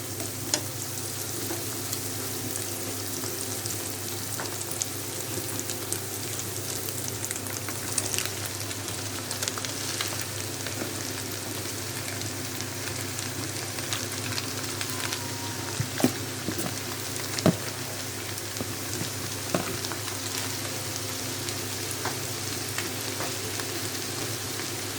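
Snake gourd frying in a pan: a continuous close sizzle with scattered crackles and pops that runs steadily the whole time, with no talking.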